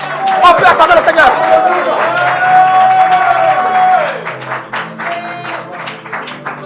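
A church congregation applauds and cheers the Lord, with dense clapping and crowd voices blended with loud sustained music and a prominent speaking voice over the top.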